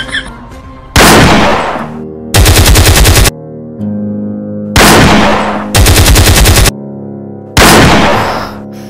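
AK-47 machine gun fire rips out in several loud, close bursts of rapid shots, separated by brief gaps and echoing tails.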